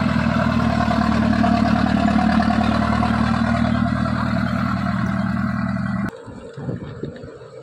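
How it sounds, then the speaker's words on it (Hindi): A truck with a broken silencer roars along a hill ghat road with a loud, deep, rumbling engine note. The roar holds steady for about six seconds, then cuts off abruptly, leaving quieter scattered noise. "इस गाड़ी का साइलेंसर टूटा हुआ लगता है, आवाज़ दे रही है गाड़ी को।"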